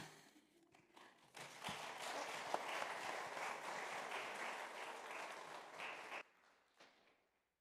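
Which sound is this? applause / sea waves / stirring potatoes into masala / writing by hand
applause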